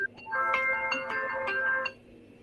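A phone rings with a bright electronic ringtone: sustained tonal notes in a steady pattern for about two seconds, moderately loud, then cuts off, with no talk over it.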